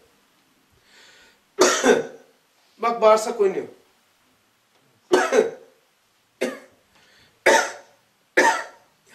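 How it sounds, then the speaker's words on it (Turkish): A man coughs several times in short, sharp, separate bursts with pauses between them, one of them mixed with a brief spoken remark. "3 defa öksürün."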